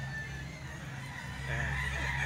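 Chickens offered for sale at a market, crowing and clucking in a short burst over a steady low hum of background noise, with faint voices nearby.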